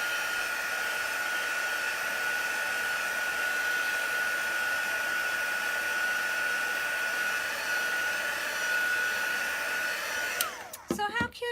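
A heat tool blows steadily over a chalk-paste craft project, a continuous even whir with a thin whine, running close and loud for about ten seconds before cutting off with some handling clatter.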